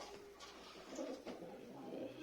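Pigeons kept in a coop, birds moved from a demolished balcony coop, give soft low cooing calls in a few short swells over quiet background.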